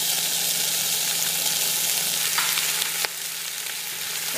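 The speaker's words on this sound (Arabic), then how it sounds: "هسه اضيف البصل حتى يتشوه ويا الدجاج" Onion fries together with chicken in a pan, giving a steady, close hiss of sizzling oil with a faint stir or two and a slight drop in level near the end.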